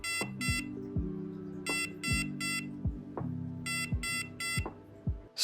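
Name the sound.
aquarium temperature controller alarm beeping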